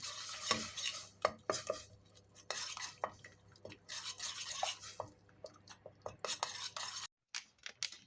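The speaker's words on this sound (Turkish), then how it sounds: "Biraz şeyi karıştırarak koyalım topaklanmasın" Milk being stirred in a pot for muhallebi pudding, with a spoon scraping and clinking against the metal in quick irregular strokes, close and fairly quiet, followed by a brief pause near the end.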